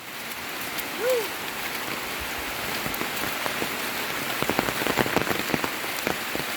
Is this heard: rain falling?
yes